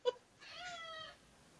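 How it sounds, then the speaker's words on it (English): A cat lets out a loud, drawn-out meow that sounds more like a yell, preceded by a short sharp chirp, close and alone in a quiet room. "your cat's meow is like not really a meow."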